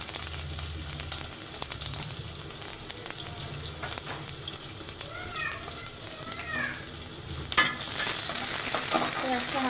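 Onions and green chilies sizzle in hot oil in a wok, a steady close frying hiss with occasional spoon strokes and a brief clatter near the end, and faint talk in the background.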